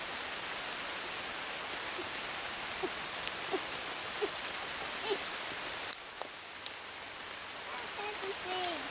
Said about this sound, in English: Where has this rain come from?